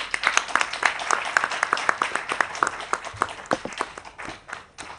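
Audience clapping at a senior citizens' CSR wellbeing function, a steady patter of many hands, fairly close and loud, with faint voices briefly mixed in.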